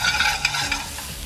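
Granny Smith apples frying in a small pan over high gas for a toffee apple, a steady close sizzle with stirring and scraping, loud and continuous with no voices.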